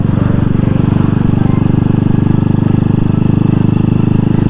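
A classic Honda C70 motorcycle engine runs steadily while being ridden, its loud, even buzzing thrum staying close and continuous throughout with no voices over it.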